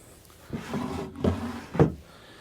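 Fiddle drawers on a boat slide open and shut, giving a few low wooden scrapes and three distinct knocks as they close, near and moderately loud in a quiet cabin.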